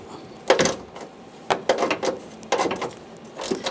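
A 10mm socket wrench loosening a fender bracket bolt on a 2011-2018 Ram 1500, four separate bursts of close ratcheting clicks spaced about a second apart, no voices.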